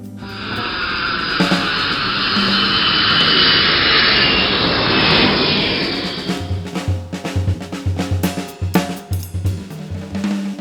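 Private jet engines roar in flight on a repositioning trip from Antalya to Keflavik, a loud sustained broadband whoosh that fades after several seconds into thumping, rattling cabin noise.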